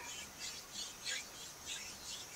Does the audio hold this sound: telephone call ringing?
no